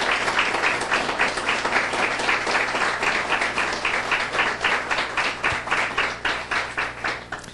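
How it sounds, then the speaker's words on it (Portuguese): Audience members at a professional lecture in Brazil applaud with loud, even claps. The applause carries a pulsing rhythm as it runs steadily for about seven seconds with no talking. "uma salva de palmas"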